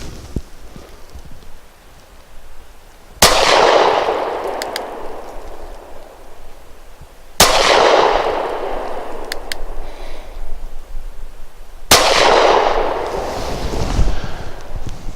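A Keltec PF9 pistol fires nickel-plated Remington Golden Saber 124 grain rounds outdoors, three loud, sharp shots spaced about four seconds apart, each leaving a long decaying echo.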